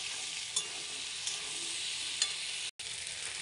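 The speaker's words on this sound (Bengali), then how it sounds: "সবজিগুলো মশলার সঙ্গে কষা হয়ে গেলো, ভাজা ভাজা হয়ে গেছে" Eggplant, boiled potato and peas stir-fry with spices in oil, a constant dense sizzle close up, broken by occasional soft spatula scrapes and one brief dropout.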